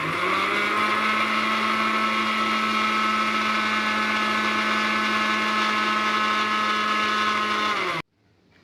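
A kitchen mixer grinder whirs steadily as it grinds grated coconut with chili powder, turmeric powder and a little water, a loud, even motor whine held for about eight seconds before it cuts off abruptly, with no talk.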